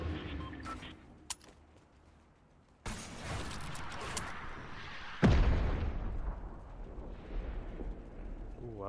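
A rocket explodes in a first-person shooter with a sudden loud, deep boom that rolls off slowly, following earlier scattered gunfire and a sharp burst, with faint talk nearby.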